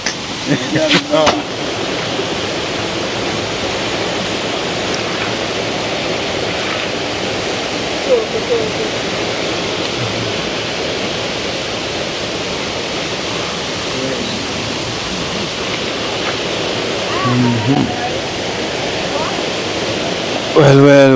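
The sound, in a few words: running water while washing off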